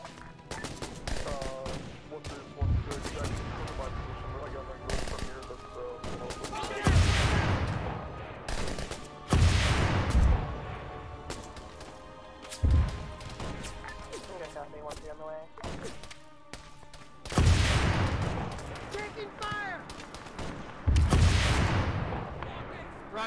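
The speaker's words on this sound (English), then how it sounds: "Enemy fire!" Bursts of rifle and automatic gunfire in the military shooter Arma 3, several loud volleys at irregular intervals with sharp cracks and rolling echoes, mixed with voices shouting over radio between the shots.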